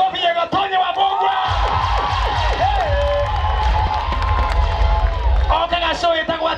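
An audience breaks into applause and cheering, a dense wash of clapping and shouts running under a loud voice that talks over it.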